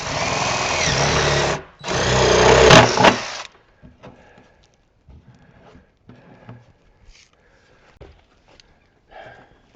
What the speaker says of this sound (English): I'm going to drill a little 1/2-inch hole in there.